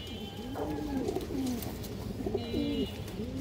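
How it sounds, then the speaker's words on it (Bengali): Fancy high-pedigree pigeons coo in a loft, two rolling, throaty coos a couple of seconds apart, close, with faint background chatter and rustle. "খুব সুন্দর কবুতর"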